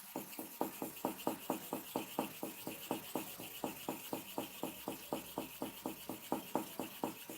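An 808 hair clipper blade is rubbed back and forth on a sharpening stone, a quiet, even series of about twenty scraping strokes in steady rhythm, close up with no talking.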